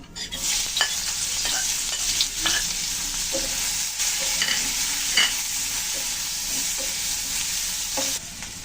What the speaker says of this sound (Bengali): এখন আমি ওই আলু ভর্তার জন্য পেঁয়াজটুকু ভেজে রাখিয়ে নিচ্ছি।